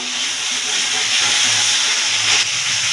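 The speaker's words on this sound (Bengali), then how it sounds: "এবার আমরা একে একে মশলাগুলো দিয়ে দেব দিয়ে দেবো আদা রসুন আর লঙ্কা বাটা দিয়ে একটু নাড়িয়ে নেব" Ginger, garlic and chilli paste frying with onions in a pan for a Bengali fish kalia, giving a steady, loud, broadband sizzle and hiss that continues without pause throughout.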